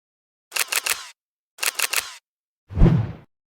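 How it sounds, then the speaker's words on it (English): Camera shutter clicks for a selfie: two quick bursts of three sharp clicks each, followed by a softer, lower mechanical clack, close and isolated against silence. "I just gotta take a quick selfie for the gram."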